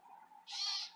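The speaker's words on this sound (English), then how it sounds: "Listen to that bird." A bird calls in a vegetable garden, a single short hooting note rising out of faint background hum, fairly distant and soft, with no talking.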